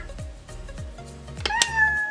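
An electronic Monopoly board game's synthesized cat meow sounds once after a run of short descending beeps, clear and close.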